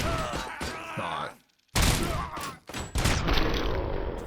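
Gunshots in RoboCop: Rogue City, heavy close blasts that break through dense game sound, followed by a sudden near-silent gap and then more loud impacts and booming fire.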